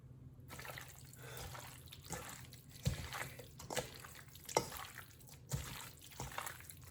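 Beef jerky marinade poured over meat and worked around by hand, giving quiet wet squelches and drips in irregular bursts over a steady low hum, close and faint.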